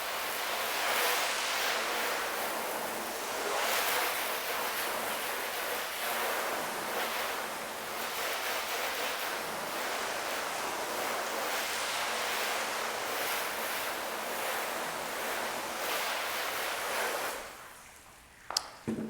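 Water rinsing over coated car paint, a broad, loud hissing spray that surges and eases in waves for most of the stretch before stopping abruptly, followed by a couple of brief knocks.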